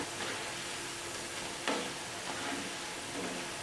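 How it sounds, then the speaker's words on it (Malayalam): Tender jackfruit pieces frying in hot oil, a steady dense sizzle with soft crackles and a brief stirring clatter midway, heard close and without talk. "ഇതിപ്പോൾ അത്യാവശ്യം നന്നായിട്ട് വറന്ന് കിട്ടിയിട്ടുണ്ട്"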